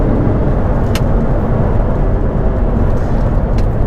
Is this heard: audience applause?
no